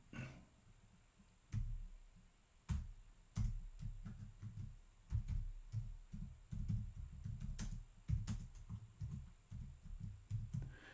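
Soft, irregular clicking of keys typed in bursts, close by in a quiet room, with no voices.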